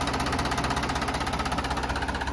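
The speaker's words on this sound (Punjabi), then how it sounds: "ਬਿਲਕੁਲ ਸਲੋ ਚੱਲਦਾ ਟਰੈਕਟਰ" A Farmtrac tractor engine, a modified power-steering model, runs slowly at a low idle, giving a steady, even chugging pulse heard close up and alone.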